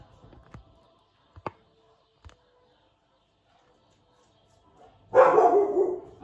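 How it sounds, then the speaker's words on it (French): A dog gives a few short, sharp barks, then a louder, longer burst of yapping closes the clip after a stretch of silence. "ça c'est mon chien."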